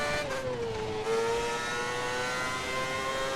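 A Formula One car's engine drones at steady high revs in the F1 2010 racing game, its pitch dipping briefly near the start as a gear is missed, then holding a constant whining tone.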